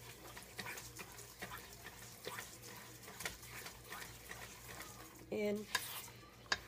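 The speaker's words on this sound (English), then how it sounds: "Once you get this in your bowl, just mix it up real well." Zucchini bread batter of sugars and brown sugar is stirred in a bowl, with soft repeated scraping and sloshing strokes close by, a faint hum underneath and a brief clink near the end.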